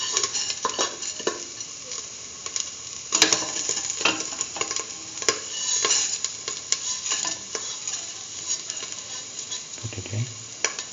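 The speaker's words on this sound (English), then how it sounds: "Now put in the vermicelli pasta." Vermicelli pasta tipped into a pan and stirred for a peach coconut milk soup: steady scraping and light sizzling with scattered utensil clicks and knocks against the pan, close and moderately loud, a low thump near the end.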